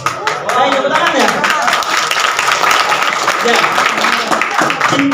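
An audience at a seminar talk claps loudly and steadily for several seconds, and a voice briefly speaks over the applause.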